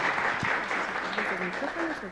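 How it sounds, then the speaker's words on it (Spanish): Applause from a panel audience greeting the panelists, a steady mid-level clatter of clapping over about two seconds with some voices mixed in. "Un fuerte aplauso para nuestros panelistas."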